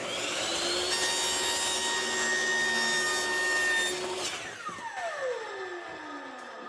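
A power saw, likely a miter saw, cuts through wood crown molding for a bathroom remodel, a loud steady whine under the blade for about four seconds, then the motor winds down with a falling pitch as the cut ends.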